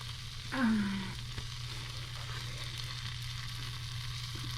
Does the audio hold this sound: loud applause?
no